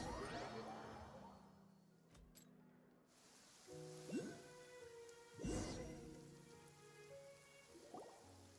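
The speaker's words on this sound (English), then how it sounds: "It's been raining non-stop for a few days now." Steady rain pours on surfaces in the Genshin Impact video game, a continuous patter with a few brief whooshes and tonal game sounds layered over it, no talking.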